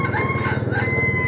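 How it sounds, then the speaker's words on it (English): A rooster crows nearby, one drawn-out cock-a-doodle-doo over a low, steady rumble. "Roosters."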